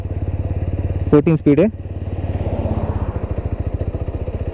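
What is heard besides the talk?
TVS Apache RTR 200 4V motorcycle riding in second gear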